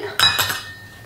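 Utensil clinking and scraping in a bowl while mixing T55 flour with half a teaspoon of salt for no-knead pizza dough, two close short bursts then quiet.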